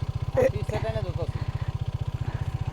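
A motorcycle engine thumping in a steady, rapid idle close by, starting and dropping into first gear, with people talking briefly over it early on during a bike ride toward a jungle resort.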